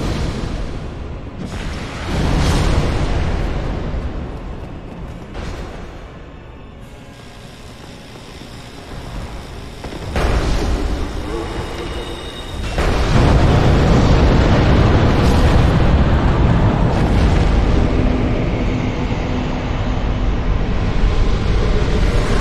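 Fiery spell blasts in Dark Souls, Great Fireball and Fire Tempest, heavy roaring booms and rumbling eruptions recurring close and loud over a long stretch, swelling into sustained thunderous fire.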